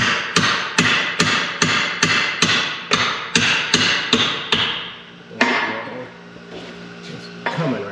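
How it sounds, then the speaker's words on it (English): Steel hammer blows on a vehicle hub while its hardware is worked loose, a regular series of sharp ringing strikes about every half second, then a pause, a few clanks and one more late hit. "give me that hammer."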